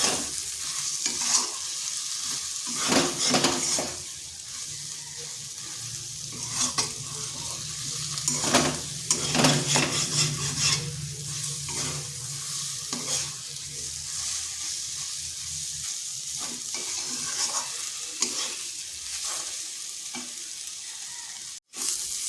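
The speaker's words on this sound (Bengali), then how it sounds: "এইভাবে আলুর সাথে মিশিয়ে নিচ্ছি" Beaten egg is stirred into potatoes in a frying pan under a soft sizzle, with irregular close spatula scrapes and clinks against the pan and a few quiet pauses between.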